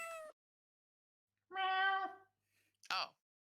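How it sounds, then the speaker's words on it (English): Cat in the game Ace Attorney: Justice for All gives short, tonal meows, a brief one at the start, a longer one in the middle and a quick high cry at the end, separated by silence. "It sounded like a cat."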